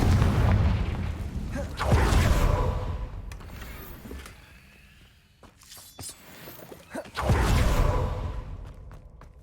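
Confringo fire spell blasts in the video game Hogwarts Legacy: loud booming explosive bursts with crackling, shattering debris and whooshes, repeated twice with quieter rumbling and scattered impacts between.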